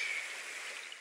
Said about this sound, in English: And Whalmer used water step